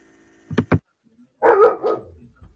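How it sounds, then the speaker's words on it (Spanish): A dog barks nearby, two quick sharp barks followed by a longer, rougher bark and a few faint trailing yips, heard against a quiet background. "Y ladrido de perro"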